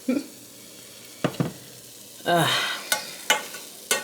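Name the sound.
coconut aminos added to sizzling cabbage fried rice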